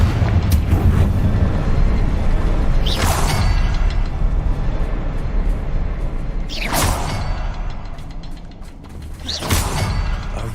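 The Confringo explosive spell cast in Hogwarts Legacy goes off as three sharp whooshing blasts, each followed by a booming burst over a loud, continuous background of game noise.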